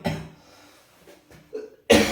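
A person coughs a few times, a short cough at the start, a softer one midway and a louder burst at the end.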